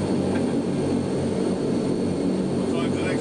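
Jet aircraft engines during two-engine flapless landing practice at Stansted, a loud continuous roar with no breaks, with faint voices under it.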